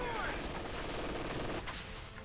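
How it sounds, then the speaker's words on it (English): Incendiary rounds firing in a Black Ops 3 multiplayer match: dense, continuous gunfire fills the whole moment with no pauses, loud and close, with a voice faintly mixed underneath. "Sick incendiary rounds."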